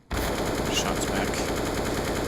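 Sustained automatic gunfire crackles for about two seconds in a Counter-Strike esports match between FaZe and TyLoo, dense and loud with no pauses.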